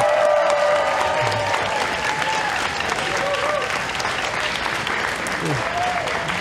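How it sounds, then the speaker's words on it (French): Audience applause greets two guests being introduced, a sustained, even clapping that continues steadily for several seconds at moderate loudness. "on les applaudit!"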